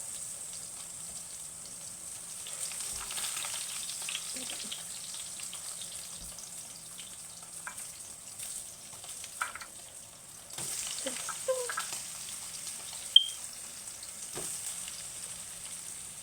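Hotdogs frying in oil, a faint steady crackling sizzle with scattered pops and a few light clinks, heard close but quiet.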